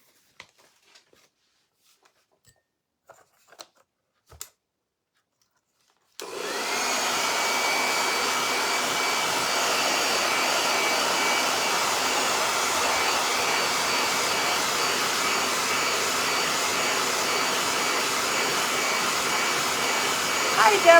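A hair dryer switches on after a few quiet seconds of small handling clicks and blows a steady, loud, unbroken whoosh while drying a craft berry basket being turned into a bunny basket.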